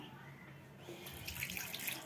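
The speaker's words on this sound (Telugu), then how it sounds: "చింతపండు వాటర్ పోసేసుకుందాం" Tamarind water pours into a pot of Andhra-style fish curry, a soft steady liquid stream that swells into gentle splashing after a moment, faint and close with no talk.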